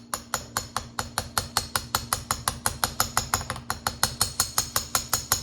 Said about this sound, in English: This is with the framing hammer, and you can hear it.